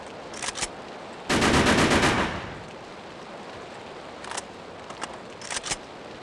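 A sustained burst of automatic gunfire from the video game Hitman, loud and close, lasting about a second, with a few faint short shots before and after.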